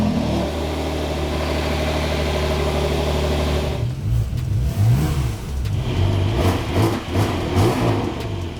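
A Porsche 992 Turbo S with a Capristo exhaust idles loudly and steadily, then breaks into a series of sharp throttle blips and revs that rise and fall close by.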